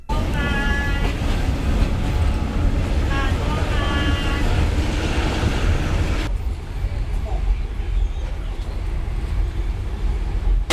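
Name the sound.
train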